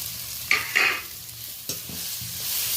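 Fish curry of mourola fish with ginger paste is stirred in a pan, with a few close scraping strokes over a soft simmering sizzle and no voices.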